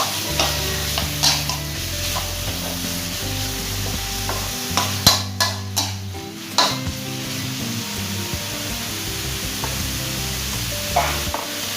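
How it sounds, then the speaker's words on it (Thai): Pork pieces being stir-fried with curry paste in a hot pan for a Thai long-bean stir-fry. A steady sizzle runs throughout, with the ladle scraping and clinking at irregular moments, close and alone with no talk. "ผมก็จะใส่หมูชิ้นลงไปเลยนะครับ ตอนนั้นนะครับก็ทำการผัดนะครับ หมู ให้เข้ากับพริกแกงนะครับ"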